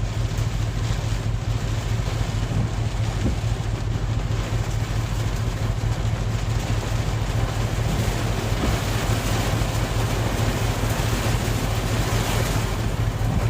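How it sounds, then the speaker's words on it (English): Heavy rain pouring down steadily in Cocoa, Florida, a dense continuous broadband wash with a low steady hum underneath, loud and unbroken throughout. "The rain's really coming down now."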